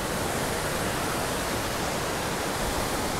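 Milky white glacial river water rushing through a Kashmir valley near Pahalgam, a loud, steady broadband roar that stays constant throughout with no voices over it.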